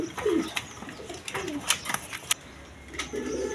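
Pigeons cooing in a pet pigeon sale setting, with soft, low, repeated coos close by, a few sharp clicks and light rustles, and continuous background murmur.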